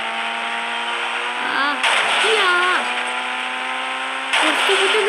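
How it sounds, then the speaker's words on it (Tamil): Car from the mobile game Indian Bike Driving 3D speeding along, a steady whining engine drone with rising and dipping pitch swoops as it revs, loud and close, while someone speaks over it. "பாருங்க எவ்வளோ ஸ்பீடாக நம்ம கார் போகுதுன்னு."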